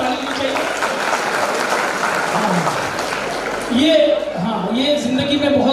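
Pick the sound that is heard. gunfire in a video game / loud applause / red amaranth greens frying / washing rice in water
loud applause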